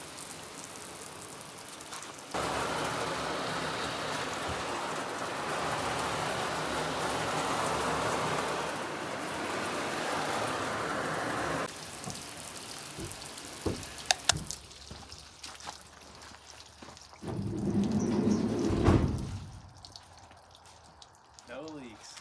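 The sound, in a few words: water sprayed onto a camper van's exterior in a leak test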